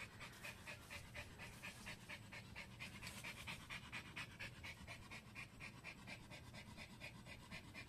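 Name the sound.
dog panting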